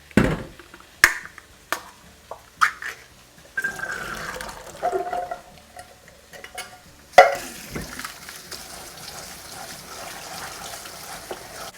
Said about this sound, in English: I'm just going to drain and rinse it before I use it